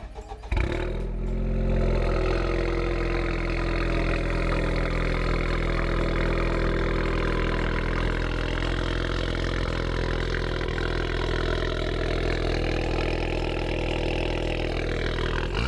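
A highly modified Honda Civic Type R (FK8) with a turbo-back exhaust idles nearby, a steady deep rumble that holds evenly throughout, with no talking.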